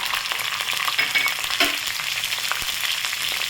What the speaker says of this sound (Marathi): तेल गरम झालेलं आहे, याच्यामध्ये घालायचे जिरे